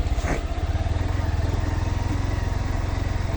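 A motorcycle engine runs steadily at close range with a constant rumbling throb, as if riding along without much change in speed, on the way to Guliakhali Sea Beach, Sitakunda.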